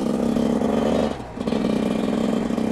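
A stock off-road motorcycle with its original exhaust line revs hard and steadily close by, holding a loud buzzing drone that dips briefly before picking up again.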